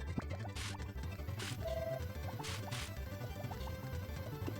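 In Harvest Moon: Back to Nature, a watering can sprays crops with a few short, soft splashing pours over continuous background game music.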